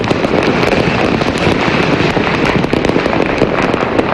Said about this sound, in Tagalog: Nagningning ang kalangitan kagabi dahil sa makukulay na fireworks bilang pagsalubong sa bagong taon.